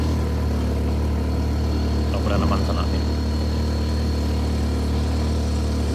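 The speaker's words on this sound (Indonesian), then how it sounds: "Nggak nangis motor kita nanjak sana" Motorcycle engine droning steadily while climbing a slippery uphill dirt road at a rest area, a low constant hum with the rider talking over it.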